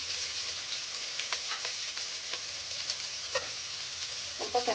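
Onion, green chilli and capsicum frying in a little oil, a steady close sizzle with scattered light stirring clicks, no talking.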